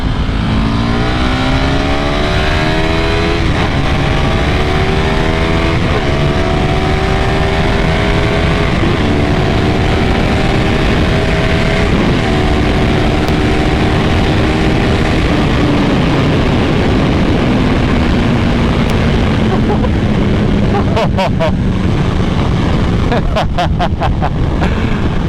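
A motorcycle accelerates hard through the gears, engine pitch rising and dropping with each shift, loud and close throughout with rushing wind, alone without talk.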